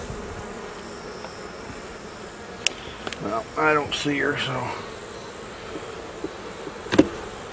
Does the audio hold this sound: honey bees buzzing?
yes